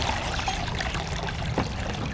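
Water dumped out of an above ground pool vacuum pours and trickles steadily and close by, with a brief louder splash near the end.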